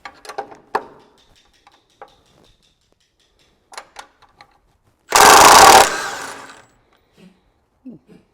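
A power tool whirs for about a second as it loosens a skid plate bolt under the transfer case of a flatfender farm Jeep. The burst is loud and near, and scattered clinks and handling noises come before and after it.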